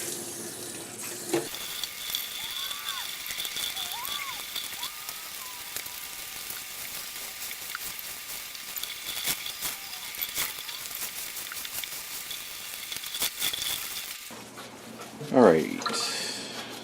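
Running water rinses ice-dyed, reverse-accordion tie-dye fabric at a sink: a steady, close hiss of tap flow lasting about thirteen seconds, then cutting off, followed by a brief splash or clatter.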